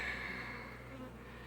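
Honeybees around a hive being split to raise a new queen give a steady, faint, even buzz, close and continuous, with no talking over it.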